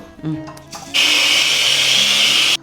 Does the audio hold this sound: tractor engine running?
no